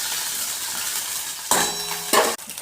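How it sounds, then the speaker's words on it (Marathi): Chopped onions frying in hot oil with cardamom and cinnamon, a steady close sizzle with brief bursts of stirring and a clink of a utensil against the pan. "नंतर चिरलेले कांदे परतून घ्यायचे व्यवस्थित."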